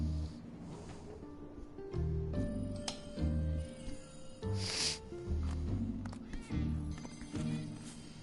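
Cats meowing in the video game Final Fantasy 7 Remake give several short, close meows and yowls, mixed with clunks and game ambience throughout.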